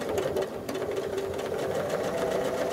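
A sewing machine stitches a quilt design, its steady motor whir running continuously and fairly loud on its own, with no voices over it.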